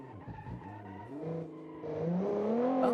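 Tires skid and squeal as a 1960s American sports car brakes hard in Forza Horizon 5, the engine note sliding in pitch while the screech grows louder toward the end.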